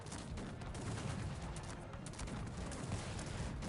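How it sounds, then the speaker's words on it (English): Musket volleys crackle continuously in a Cossacks 3 battle, dense overlapping gunfire with a steady, noisy roar and no clear gaps, loud and sustained throughout. "stopping to shoot for a few moments so he can reposition"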